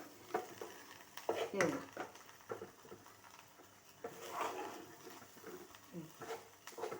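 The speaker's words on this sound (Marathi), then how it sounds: "तांदूळ पण आपले आता छान भाजून झाले. ते बघा कसा आवाज येतोय." Dry grains rustle and crackle as they are stirred in a hot pan, with scraping bursts coming in uneven waves and no talking.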